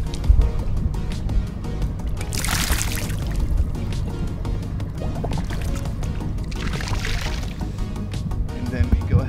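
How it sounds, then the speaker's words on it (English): A sample bottle being rinsed in lake water at High Rock Lake, heard as two close swishing, gurgling splashes against a steady outdoor rumble, with a person talking throughout. "first, we just go ahead and rinse the bottle."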